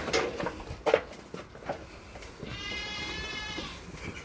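Goats bleating on a goat farm, with a long, quavering bleat standing out clearly in the second half after a few shorter, rougher calls and light scuffling noises.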